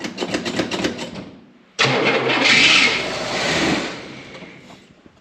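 A Cummins diesel engine cranks in a rapid rhythmic chatter, then catches and roars to life after sitting unused for four months, settling into a loud, rough idle close by.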